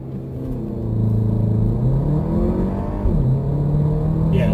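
A Porsche Macan launching from a start with traction control off, its engine rumbling loudly and climbing steadily in pitch as it accelerates, close and continuous with no talk.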